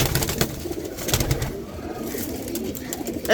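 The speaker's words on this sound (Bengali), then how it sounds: "এই যে সিলভার কবুতর আছে মাশাল্লাহ" Silver pigeons coo among a busy loft of hens and young birds, the soft throaty calls blending with shuffling and background clatter.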